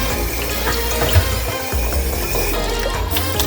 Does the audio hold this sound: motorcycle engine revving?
no